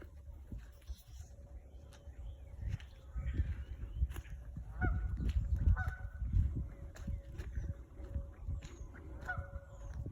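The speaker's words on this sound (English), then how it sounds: "I hope you can hear the birds as I walk" Geese honk repeatedly at a distance outdoors, with footsteps and rustling from someone walking close by.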